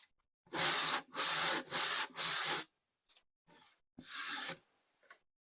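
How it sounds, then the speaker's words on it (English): Rubbing block passed lightly over a panel surface to take off rough bits, four quick rasping strokes in a row, a pause, then a few fainter scrapes and one more stroke, close up. "just give a light rub over just to get rid of any rough bits"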